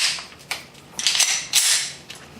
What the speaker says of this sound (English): I'm going to load this gun with snap caps, which are inert dummy rounds